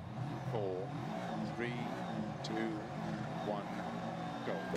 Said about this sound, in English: Listen to that rumble. God, I love boxer engines.